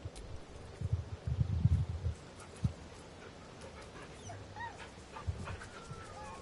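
A dog in the video game Baldur's Gate 3 whimpers and pants in short low bursts, with a small yip and soft whines, heard close over a quiet game ambience.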